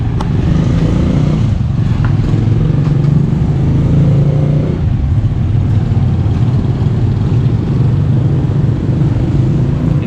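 A Suzuki Smash 115 motorcycle, 2024 model with mag wheels and disc brake, runs near a dealership as a client rides off; the small engine hums steadily and loudly throughout, with a slight shift in tone midway and no talk.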